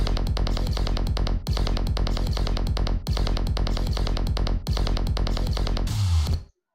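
A loud, heavily mastered electronic remix plays with dense pounding drums in four repeating bars, ending in a low swooping bass drop before cutting to silence.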